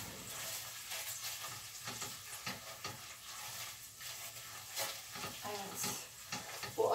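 Tomato paste stirred into a simmering pot, with a soft sizzle and intermittent scraping of a spoon and light clinks, fairly quiet and close; no clear talking.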